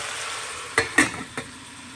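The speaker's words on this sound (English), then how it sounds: "Give it a stir. But you don't want it to stick at the bottom." Spoon stirring chicken soup in a pot, a few soft scrapes and light clinks against the metal over a quiet simmering hiss, with three brief distinct knocks in quick succession.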